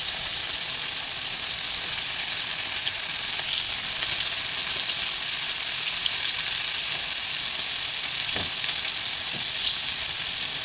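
Okra pieces coated in a cornmeal batter frying in hot oil, a dense, even, loud sizzle and crackle that holds steady from start to finish with no voices.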